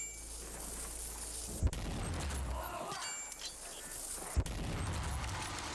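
Gunfire in the shooter game Rage 2: two sharp shots stand out, spaced a few seconds apart, over a dense, constant rumble of game noise.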